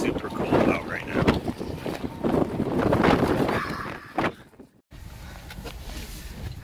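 Strong wind blowing outdoors in cold winter weather at Cadillac Ranch, gusty roaring buffets on the microphone that swell and fade, with a brief dropout before a steadier rush.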